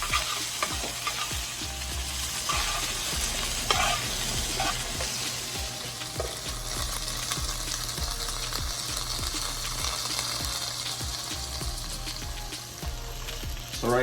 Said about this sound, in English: And we're just gonna mix everything up together